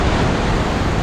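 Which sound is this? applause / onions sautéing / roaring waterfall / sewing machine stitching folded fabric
roaring waterfall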